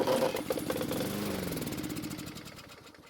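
A small lawn mower engine sputters and runs with a rough, pulsing rhythm, then gradually winds down and fades.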